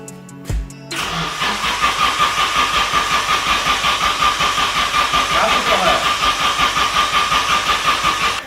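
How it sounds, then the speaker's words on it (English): A Nissan S13 Sileighty fitted with a new exhaust cranks briefly and fires up, then settles into a steady, loud, rhythmically pulsing idle close by that runs to the end. "let's hear it for the first time with the exhaust on."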